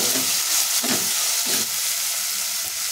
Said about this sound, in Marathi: आता हे छान सॉफ्ट होईपर्यंत आपल्याला परतून घ्यायचे